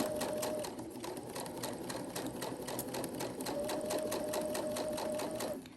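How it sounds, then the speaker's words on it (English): Sewing machine stitching steadily around the edge of a small fabric drawstring bag, a continuous close motor whir with rapid needle clatter running the whole time, alone without talk. "And we're gonna stitch around."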